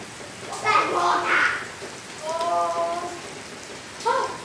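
Heavy rain falls in Itapura, São Paulo, as a constant soft hiss beneath a voice, which speaks in short phrases over the downpour.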